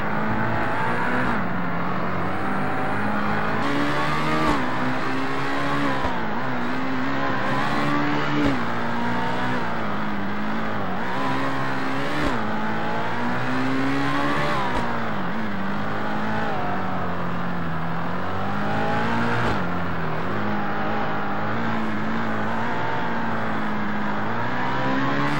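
Bentley EXP Speed 8 race car at Silverstone in a racing game, its engine droning and revving steadily throughout, pitch rising and falling with gear changes, loud and close with no pauses.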